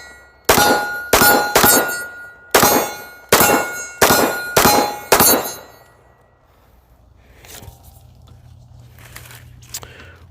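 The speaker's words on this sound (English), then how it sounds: "I will have to say I am very pleased with these Krate Tactical silhouette targets." Airsoft BBs strike Krate Tactical steel silhouette targets, giving eight loud, sharp metallic clangs in an uneven sequence with ringing tails, then quiet outdoor ambience with faint rustling.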